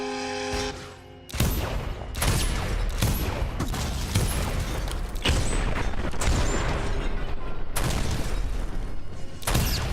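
Gunfire and explosive booms from the video game Dishonored, with dense repeated shots and blasts filling the whole stretch, loud and continuous after a brief quieter opening.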